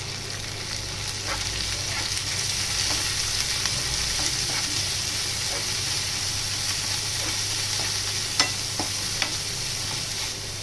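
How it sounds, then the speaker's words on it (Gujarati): Cabbage, frozen peas and salt sautéing in a pan, a continuous crackling sizzle with occasional sharp taps of a utensil against the metal. "કોબી થોડુંક સોફ્ટ થાય અને વટાણા સહેજ કૂક થઈ જાય ત્યાં સુધી આપણે તેને સાતળશું।"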